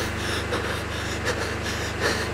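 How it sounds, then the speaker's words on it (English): A drunk video game character pants heavily: continuous rough, breathy gasps with a few sharper inhales, steady and fairly quiet. "panting a lot for some reason"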